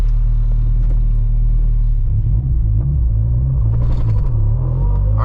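Close, loud engine rumble from a modified 600 HP Honda Civic Si, steady at first, then rising and wavering as it revs slightly and the whole car shakes.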